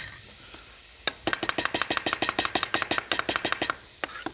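Garlic cloves cooking in oil in a pan for a scallion gratin, with a sharp, rapid series of scraping stirs and clacks over a soft sizzle, loud and close, with no talking.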